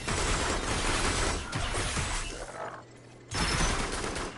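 Gunfire from a sniper and other weapons in the co-op VR shooter Farpoint: loud, dense bursts of shots and crackling impacts that dip briefly in the middle and then return at full volume.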